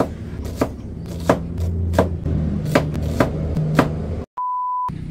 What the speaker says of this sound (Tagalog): ito naman pong sibuyas ang atin pong hihiwain